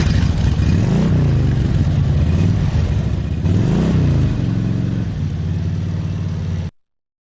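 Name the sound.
motorcycle revving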